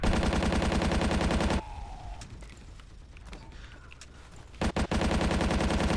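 Rapid automatic gunfire from a video game rattles loud and close in a dense burst, drops away to scattered quieter game sounds, then resumes in another sustained volley.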